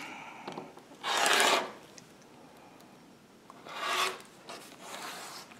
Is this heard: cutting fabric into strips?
yes